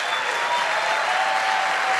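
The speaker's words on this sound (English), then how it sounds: "Can we give Ross another round of applause?" Steady round of applause from an audience at an info session, even continuous clapping with no voices over it.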